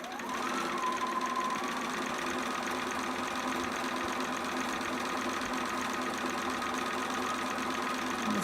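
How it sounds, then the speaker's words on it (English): A sewing machine stitches a hem on a Nora Sitter romper, running in one steady, even whir with rapid mechanical needle rhythm, close and constant from start to finish. "I'm going to move my needle over twice. And sew that into place."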